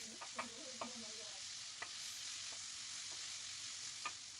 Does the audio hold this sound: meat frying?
yes